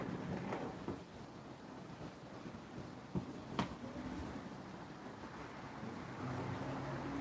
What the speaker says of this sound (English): But the wind, I don't know why we're getting it.